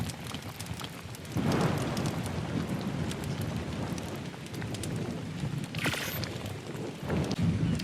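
Video game rain in Ark: Survival Ascended: steady heavy rain hisses throughout, with a low rumble of thunder rolling in the middle; no voices.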